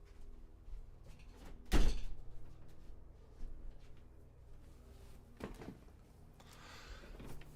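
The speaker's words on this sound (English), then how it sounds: "Let me just close the door here." A door swings shut with one solid thud, followed by quieter knocks and a few more soft bumps a few seconds later, heard in a quiet room with a low hum.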